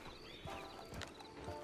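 Horse hooves clip-clopping in the Red Dead Online video game, a steady run of close hoof beats over a busy game soundscape with a faint whinny.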